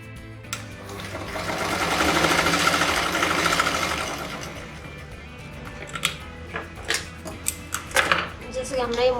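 Sewing machine stitching saree blouse fabric with a lining laid over it, a steady whirring run of stitching that builds over the first few seconds, then shorter bursts and clicks as the fabric is repositioned.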